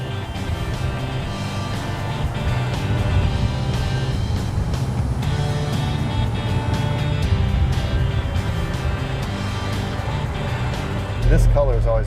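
A classic Ford or Chevrolet muscle car drives along with a steady, loud engine drone and road rumble, a slight clutch chatter in the mix, while someone talks over it throughout.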